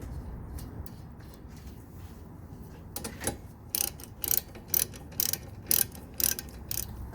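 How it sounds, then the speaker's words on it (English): A nut is threaded back onto the front wiper arm of a Chevrolet Sonic, heard as a series of sharp, close ratchet clicks in a steady rhythm after a few quieter scrapes. "Put the nut back on."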